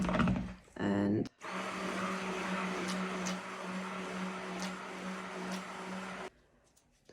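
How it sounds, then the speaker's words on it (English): A stick blender whirs loudly and steadily for about five seconds, mixing soap-making oils with coconut milk, after short bursts of speech and a brief pulse at the start, then cuts off abruptly. "So this is my oils, these are my oils and coconut milk here, and I mix them,"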